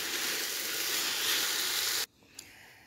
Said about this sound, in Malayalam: സ്ട്രെയിൻ ചെയ്ത് വെച്ചിരിക്കുന്ന മില്ലറ്റിൻ്റെ നൂഡിൽസ് നമുക്ക് ഇട്ട് കൊടുക്കാം. നല്ലതുപോലെ മിക്സ് ചെയ്ത് കൊടുക്കാം.